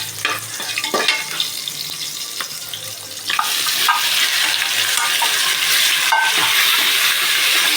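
Mutton and onion frying together in a pan, a steady close sizzle with stirring scrapes and clatter throughout, growing louder and denser partway through, with no talking.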